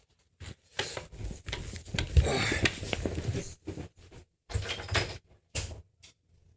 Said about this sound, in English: For sure, somebody's knocking.